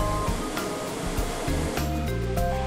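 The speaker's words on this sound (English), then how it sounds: "and a major water leak test" Water sprays hard over a new Lexus RX during a factory water leak test, a loud continuous rushing hiss under background music with steady tones.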